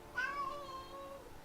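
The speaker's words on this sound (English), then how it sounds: "Yeah, that's my cat." A pet cat lets out a single drawn-out meow that rises and then trails off, faint and alone against a quiet room.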